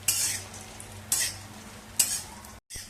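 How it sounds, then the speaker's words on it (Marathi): Black and green cardamom pods roast in a little oil in a pan, giving a soft steady sizzle broken by three sharp bursts of stirring and scraping, with a brief silent gap near the end. "आता थोड्याशा तेलावरती मसाला वेलची आणि हिरवी वेलची दोन्ही सुद्धा आपण चांगलं भाजून घेऊया."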